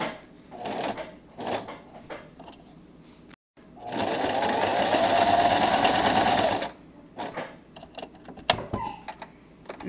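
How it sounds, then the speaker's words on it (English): Sewing machine with a button foot stitching buttons onto children's pajamas: short rattling bursts of stitching, then a longer steady whirring run, then more brief start-stop stitching, close and moderately loud. "Switch to your button foot holder and sew both parts of the button."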